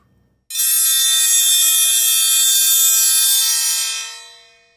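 A large bronze triangle struck once, ringing out bright and shimmering with a dense cluster of high overtones, loud and close, holding steady before fading out over several seconds.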